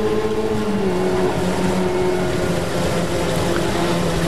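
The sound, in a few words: historic Formula Ford race cars racing at Snetterton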